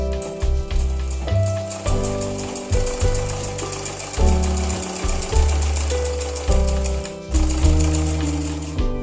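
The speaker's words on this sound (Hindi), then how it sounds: "तो इस तरह से मैं इसको सिलाई कर लेती हूँ।" A sewing machine stitches a sari-fabric strip onto a blouse in a loud, rapid mechanical chatter. It runs in repeated bursts that start and stop every second or so, close by and with no talk.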